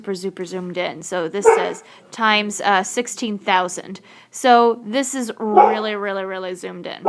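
A dog barks and yips insistently in the background, its sharp repeated barks mixed with whimpers, while a person speaks steadily over it.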